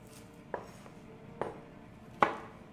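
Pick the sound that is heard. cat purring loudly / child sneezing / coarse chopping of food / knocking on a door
coarse chopping of food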